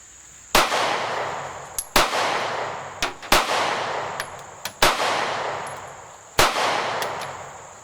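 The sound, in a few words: SCCY CPX2 pistol shooting ten rounds one-handed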